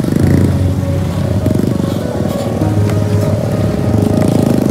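A motorcycle rides off-road over dirt, its engine droning loud and steady at close range with a gritty, throbbing tone throughout and no talking.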